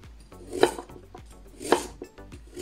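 Sweet potatoes being peeled in a home kitchen, two distinct scraping strokes with light clatter between them, close and clear with no talking.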